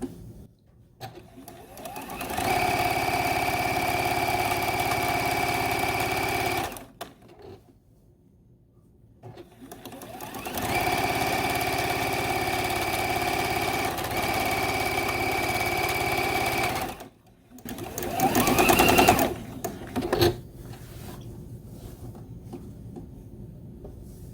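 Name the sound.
sewing machine sewing quilt block row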